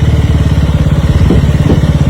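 A KTM Duke motorcycle engine thrums loudly and close up with a rapid, even firing pulse, holding a steady speed during an evening ride.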